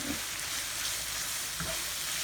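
Meat seasoned with smoked paprika sizzling in a pan, a continuous even hiss with a couple of soft stirring bumps, close and fairly quiet, with no voices.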